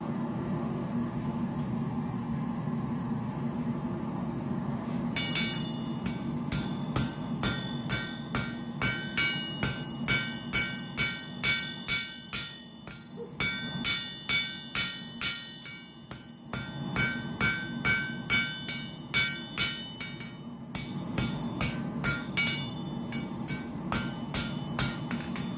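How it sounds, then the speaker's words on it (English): Rapid ringing hammer blows flatten and shape a hot titanium knife blade, coming in long rhythmic runs with short pauses over a steady low forge roar. The strikes are loud and close, with no talking. "we're gonna continue hammering and flattening and shaping to the way we want it"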